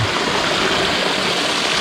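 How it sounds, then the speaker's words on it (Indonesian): A loud, continuous roar of rushing water from the nearby Babadan Goa waterfall close to Makassar city, steady and broadband with no voices. "ini air terjun dari Babadan Goa"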